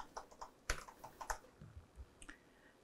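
Short close bursts of clicking keystrokes on a computer keyboard in a quiet room, a quick run of taps followed by a few scattered presses, with no one speaking.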